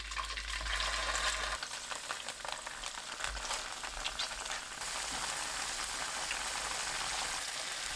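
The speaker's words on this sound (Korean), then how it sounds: "팬에 식용유 2큰술 두르고 중불로 두부를 노릇하게 구워주세요" Tofu pan-fries in two tablespoons of cooking oil over medium heat, giving a steady, dense sizzle with fine crackling that stays loud and even throughout.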